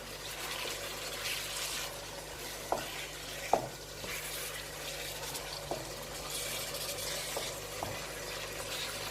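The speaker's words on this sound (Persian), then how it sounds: "اینا رو یه مقدار سرخش میکنیم" Ingredients for Afghan mantu fry in a pan and get stirred, a soft steady sizzle close by with a few sharp utensil knocks against the pan and no talk.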